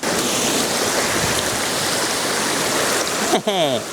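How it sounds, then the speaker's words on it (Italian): A big waterfall near the Santuario della Madonna della Corona rushes loudly in a steady, dense roar throughout, and a voice breaks in briefly at the very end. "Ah, c'è una cascatona!"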